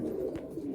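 Madrasi and Giribaz pigeons in a home loft give a soft, low cooing murmur that runs steadily through the brief moment, close and moderately quiet.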